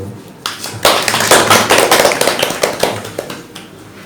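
Applause from a small seated audience opening a community meeting on farming and rural industry in Gumi, South Korea: a quick burst of close, crisp clapping that swells and then tapers off, following a brief spoken announcement.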